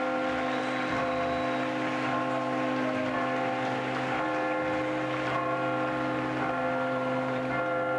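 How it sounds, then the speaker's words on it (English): Church bells peal continuously at an outdoor Harvard commencement ceremony in 1989, the overlapping rings sustained and resonant throughout, with a faint crowd murmur beneath. "There we are, the wonderful, joyous pealing of the bells."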